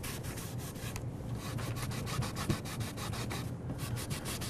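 A cloth rag rubs steadily across a wooden board, wiping off excess glue squeeze-out in continuous back-and-forth strokes, close and moderately loud, with no talking.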